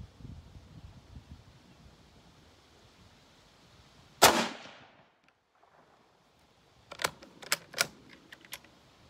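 A single sharp, loud rifle shot from an 1895 Chilean Mauser cracks outdoors and decays quickly. After a quiet pause comes a quick series of crisp metallic clicks.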